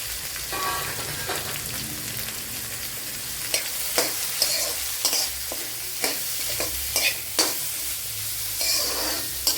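Sliced onions fry in a pan with cardamom already in the oil, giving a steady hissing sizzle with scattered crackles and a few louder scraping stirs in the second half, close-up and with no voices.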